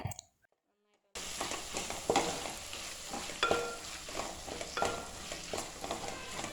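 Tomatoes added to golden fried onions in a pan for vegetable biryani: after a second of near silence, a sudden loud sizzle starts and carries on with repeated scraping stirs, faint talk underneath.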